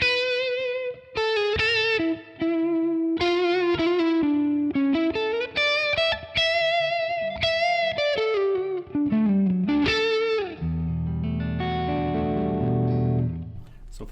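Electric guitar with a crunch tone and reverb from a ToneX ONE Amp KIT II capture pack plays a melodic line of sustained, bending notes, then ends on a thick ringing chord with a reverb tail, no voices.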